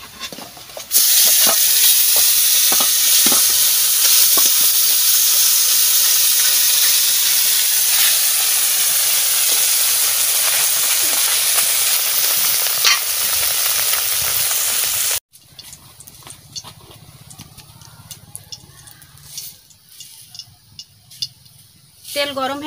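Fish frying in hot oil for a sour fish curry, a loud continuous sizzle for about fifteen seconds that cuts off abruptly, followed by quieter kitchen clatter and faint sounds.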